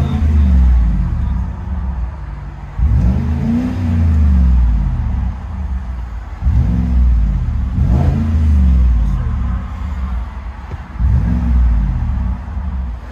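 2017 GMC Sierra Denali with a 6.2L V8 and resonator exhaust revs repeatedly, giving deep, throaty rumbles that swell and fall about every couple of seconds over a steady idle, loud and close.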